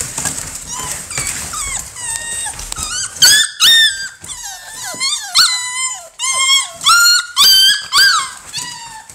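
American Bully puppies whimper and yip nearby in a lively tumble of high, rising squeals and short yelps, sparse at first and then denser and louder toward the end.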